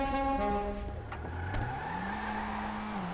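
Car engine revving in GTA V, a harmonic engine tone whose pitch drops and then climbs steadily as it accelerates, loud and close, with a brief tire squeal.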